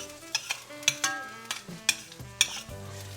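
Green onion frying in olive oil in a pan for scrambled eggs, a soft steady sizzle broken by repeated sharp scrapes and clicks of stirring, close and fairly quiet.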